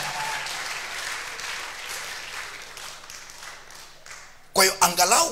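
Seminar audience applause for Jesus, a sustained wash of many hands clapping at moderate distance, fading slightly before a voice speaks over the end.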